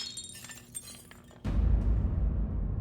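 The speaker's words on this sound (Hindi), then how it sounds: "वो कांच का ग्लास पड़ा था पानी का, वो हमारे हाथ से ऐसे गिर गया, वो टूट गया हो।" A glass drinking tumbler of water falls and shatters on the floor with a sudden loud crash, then broken shards scatter and ring on after a brief stretch of quieter indoor sound.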